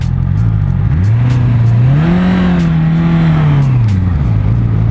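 A 2018 Honda CBR650F motorcycle engine revs while being ridden, loud and close. The pitch climbs, holds and then falls away in one steady sweep over a continuous roar, with no talking.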